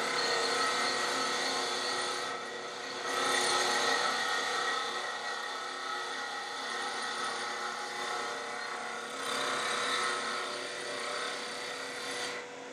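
A wood lathe runs with a turning tool riding the bevel against the spinning wood, a steady close rasping hiss that swells briefly in a few spots, with no voices.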